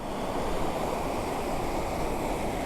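River water on the Pasig Potrero River surges through open dam gates in flood conditions, a steady, dense roar of rushing water heard up close and alone, with no voices.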